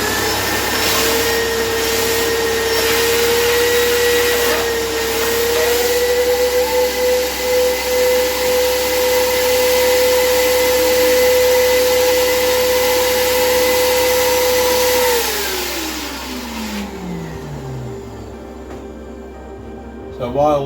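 A wet vac sucks water from a leaking compression-olive shower joint, a loud steady motor whine holding pitch with slight wobbles, then spinning down and fading as it shuts off.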